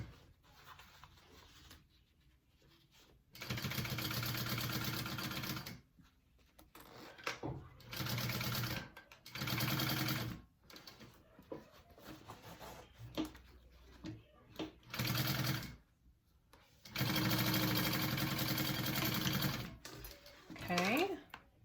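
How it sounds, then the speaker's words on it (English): A sewing machine stitches a zipper onto a bag at a quarter-inch seam, running in several loud bursts of steady rapid stitching separated by pauses, with a person talking between runs. "And I'm gonna sew that on the zipper"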